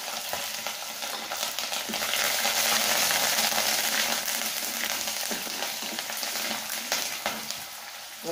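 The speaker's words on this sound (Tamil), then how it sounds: "காஞ்ச மிளகாய், பச்சை மிளகாய், கருவேப்பிலையும் இதுலேயே போட்டுடலாம்." Dried red chillies, green chillies and curry leaves crackle and sizzle in hot oil, a steady close frying hiss with light stirring throughout, no voices.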